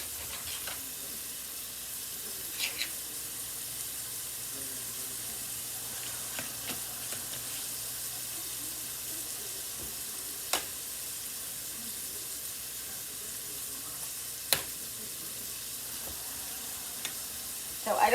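Chopped garlic resting on top of onions sizzles quietly in a pan for a budget chicken chili, a steady soft frying hiss over a long stretch, punctuated by a few sharp clicks and taps of utensils, with no talking.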